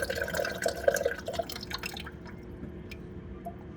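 Water drips and trickles into a toilet tank as a removed fill valve is lifted out, a close splashy patter that fades after about two seconds into quieter faint drips.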